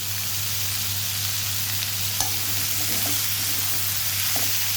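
Sliced bitter gourd fries in a pan with chili powder, turmeric and asafoetida for poriyal, a steady close sizzle under a low hum, with a few faint scrapes and taps of stirring and no talking.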